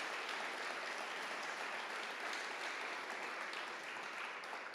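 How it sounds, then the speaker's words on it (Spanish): A church congregation claps together in steady, dense applause that holds at an even level throughout, with no voices rising above it. "denle un fuerte aplauso al Señor"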